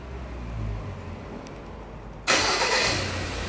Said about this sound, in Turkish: Çalıştırın aracı.